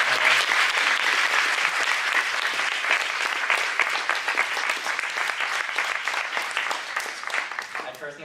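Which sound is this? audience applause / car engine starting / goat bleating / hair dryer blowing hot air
audience applause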